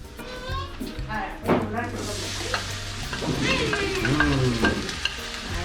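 Garlic sizzles and crackles in a frying pan for empanada filling, a steady hiss with stirring scrapes, while adults and someone talk over it close by.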